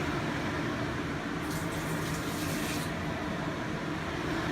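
Water being poured out of a pot holding raw chicken, a steady splashing, pouring rush, fairly loud and close, with no talking.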